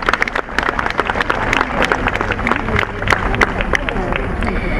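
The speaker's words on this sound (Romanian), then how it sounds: "Aplauze!" An audience claps for a music group at a summer city event, a busy wash of applause mixed with crowd chatter and a voice speaking over it.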